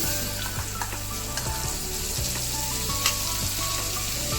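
Spice paste for a rohu fish curry with potato, papaya and green banana sizzles and fries steadily in a hot pan, a dense continuous crackle with occasional stirring scrapes and no voices.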